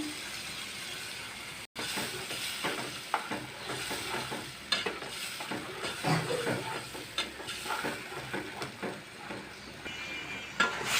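Grated tomatoes hit hot oil with spice paste for a Bengali bata fish curry with potatoes, a steady broad sizzle and frying hiss with scattered stirring scrapes, close and continuous.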